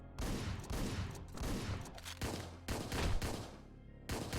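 Rapid bursts of gunfire in the video game Hotline Miami 2, loud, dense volleys of shots with brief gaps between them and no talking.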